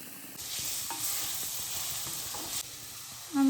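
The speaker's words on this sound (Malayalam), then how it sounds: "ഇനി കുറച്ച് ഉള്ളി വാടി വന്നപ്പോൾ നമ്മൾ അതിലേക്ക് ഇതാ തക്കാളി ആവശ്യത്തിന് ഇട്ട് കൊടുക്കാം കേട്ടോ." Tomatoes tipped into a pan of softened, sizzling onions, giving a sudden burst of bright hissing frying that holds steady for a couple of seconds, then eases back to a quieter simmer.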